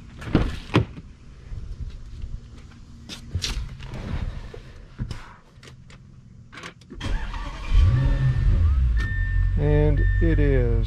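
Audi S7 with a 4.0T engine: a few clicks and thumps, then the starter cranks and the engine catches, settling into a loud steady idle with a rising whirr as it revs, close by.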